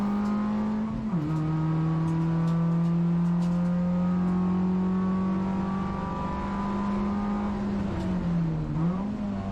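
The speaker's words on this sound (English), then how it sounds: "Eventually, that rapid Nova, it just goes past like we're stood still." Engine of a Vauxhall Nova race car in a 750 Motor Club Roadsports race at Donington, a loud sustained drone whose pitch climbs and dips with gear changes as it pulls past close by, with no talk.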